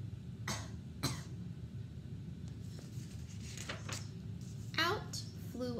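A voice imitating harsh coughing, a few sharp coughs spread through the clip with a longer raspy burst near the end.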